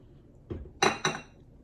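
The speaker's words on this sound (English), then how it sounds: "We are gonna scrape down the bowl again." A spatula scrapes and knocks against a mixing bowl of pumpkin cheesecake batter in three short, close clinks and scrapes, the last two louder.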